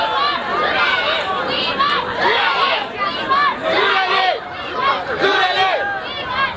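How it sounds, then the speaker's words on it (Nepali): Supporters at a women's wrestling bout in Nepal cheer and hoot, a loud, continuous crowd roar with overlapping shouts and rising swells of excited voices. "यहाँ जुरेलीको निकै सपोर्टरहरू हुनुहुन्छ उहाँको हुटिङ गरिरहेको छ"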